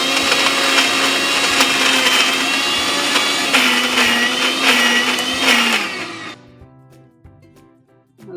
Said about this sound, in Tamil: நான் இன்னைக்கு யூஸ் பண்ண போகிற மிக்ஸி வந்துட்டு பிரஸ்டீஜ் எண்டூரா தான்